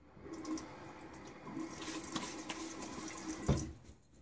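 Water from a sink tap splashes in soft bursts during a wet shave, with light trickling between them and a sharp clack near the end. The sounds are quiet and close, with no talking.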